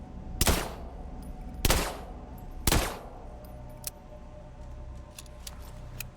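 Gunfire in System Shock Remake played in VR: three loud, evenly spaced weapon shots with ringing decays, followed by quieter clicks and small mechanical taps against low background hum.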